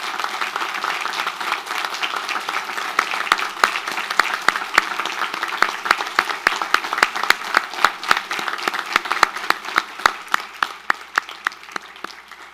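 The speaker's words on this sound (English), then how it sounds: "How about a big round of applause for them?" Graduation ceremony audience applauding parents and families, building from soft scattered claps into a fuller round where individual sharp hand claps stand out, then tapering slightly near the end.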